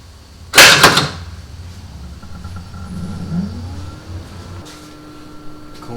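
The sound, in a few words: Tesla frunk opened and closed by Satonic V2 soft closer motor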